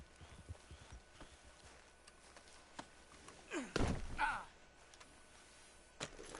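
A horse's hooves clip-clop quietly in the video game Red Dead Redemption 2, with sparse, irregular steps and a louder burst of horse noise midway before the hoofbeats resume.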